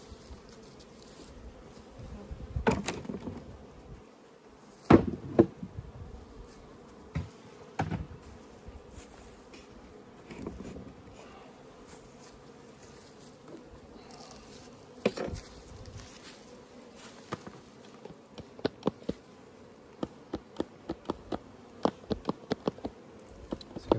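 Honey bees buzzing steadily around backyard beehives, a soft continuous drone heard from behind the hives, broken by occasional knocks and handling thumps.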